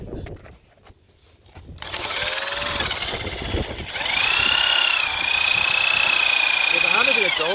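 A power drill with its hammer action switched off bores into a wooden garden gate post, a whining motor that starts after a quiet moment and climbs in pitch, close and loud, with someone talking over it.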